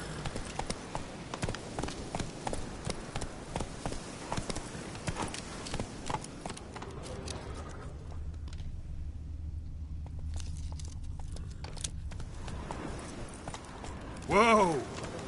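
Horse hooves clip-clop in The Witcher 3 as the rider spurs the mount on, a quick rhythmic patter that slows and fades into a low rumble, ending with a brief whinny-like cry.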